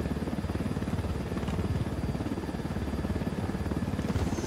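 A helicopter in Ghost Recon Wildlands, its rotor thumping in a fast, steady rhythm that sounds close and constant, and nobody talks over it.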